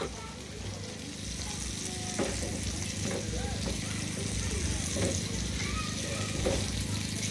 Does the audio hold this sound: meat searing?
yes